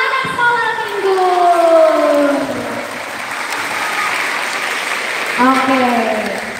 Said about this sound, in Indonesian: Tepuk tangan dulu buat anak sekolah minggu.